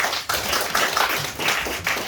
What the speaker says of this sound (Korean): 자, 뜨거운 박수 맞이해 주십시오.